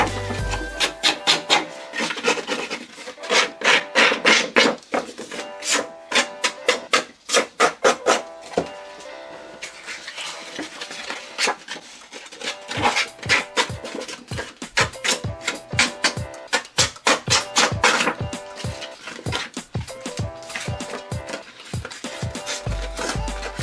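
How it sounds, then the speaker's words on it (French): Paper being scraped to distress the edges of a scrapbook page: rapid, rhythmic rasping strokes up close, coming in quick bursts with short pauses, with no voices. "Je vais distresser tout ça. Mais avant, je vais gratter."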